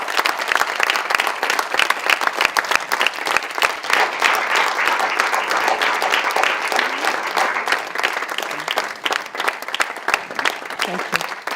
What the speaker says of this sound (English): give them a very warm applause to thank them for their support